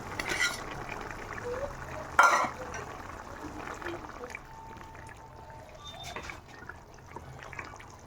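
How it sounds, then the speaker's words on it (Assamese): Pieces of fried goroi fish drop into a pot of boiling anja curry, giving a brief splash and a burst of bubbling near 2 seconds, followed by a low, steady simmer with occasional soft clinks, all under talk. "এতিয়া মই ইয়াতে ফ্ৰাই কৰি থোৱা গৰৈ মাছ দি দিম।"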